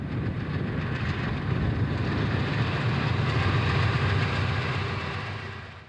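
Freight train, a Conrail manifest or intermodal consist, rumbling steadily past on the rails with a continuous loud low roar and a faint clickety-clack that swells and then eases slightly at the end.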